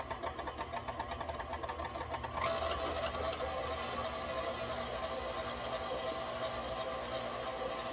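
An electric mixer runs steadily, blending Mississippi mud cake batter, its whirring motor starting up partway through and holding a continuous buzzing hum.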